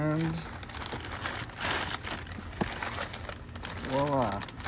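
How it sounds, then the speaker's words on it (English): A plastic bag from a hockey mystery box is sliced open and crinkled, with scattered crackles and rustles while a person talks. "Slice the bag open"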